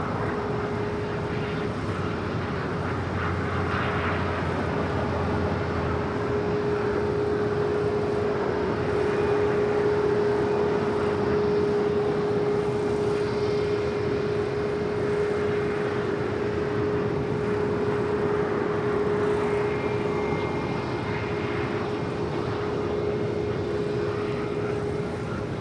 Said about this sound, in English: Air Premia, the Dreamliner, rolling down